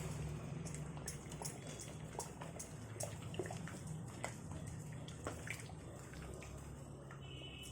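Water bubbling at a steady boil in a pot for cooking upma rava in a Rayalaseema-style kitchen, a dense continuous simmer with scattered small pops and clicks, moderately close and without talk.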